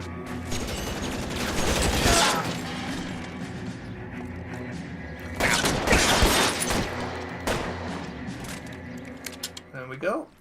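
Gunfire in the video game L.A. Noire: bursts of shots and booms in two loud clusters over a busy game soundscape, with a sharp clatter near the end.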